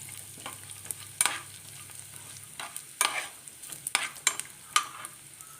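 Nuts, grated coconut and almonds fry until brown for jackfruit chakka pola, with a quiet sizzle under repeated sharp scraping stirs of a spoon against the pan.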